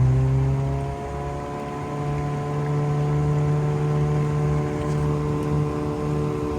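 A Mercury 9.9 outboard motor on a small boat runs at raised RPM, giving a steady, droning engine hum that holds evenly the whole time. A faint wash of water and wind sits underneath.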